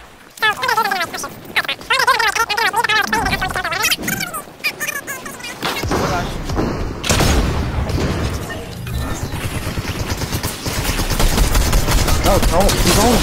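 Fortnite gunfire in a chaotic fight: fast rattling bursts and sharp shots with booms and breaking sounds, mixed with excited voices talking and shouting throughout.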